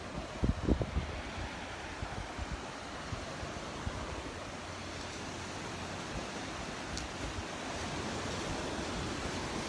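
Ocean surf rolls steadily onto the beach at Destin, Florida, a broad continuous wash of breaking waves with a few louder thumps early on, heard alone without voices.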